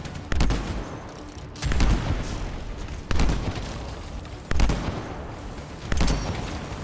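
Gunfire in the video game Anthem, heard as bursts of heavy shots that land roughly every second and a half, each with a booming low thump and a sharp crack, loud and close over a steady background din, no talking.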